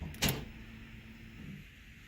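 A Ford Puma project race car being switched on, starting with a sharp click-thud and followed by a low electric whir and hum from the car.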